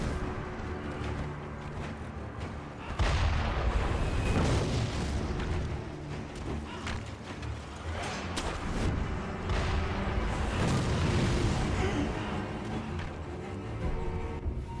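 Heavy booming cannon blasts fire repeatedly in the video game Sekiro, loud and rumbling, over a constant layer of game music and effects.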